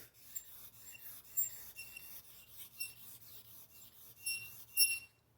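A straight razor blade is honed across a stone in short repeated strokes, setting the bevel, with high squeaky rasps between faint scratches, close by and fairly quiet.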